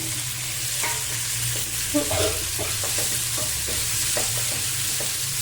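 Ingredients for paneer frankie frying on a low flame while being stirred, a steady close sizzle broken by repeated scraping and tapping stirs, no speech.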